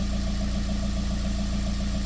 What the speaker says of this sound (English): Cold start video.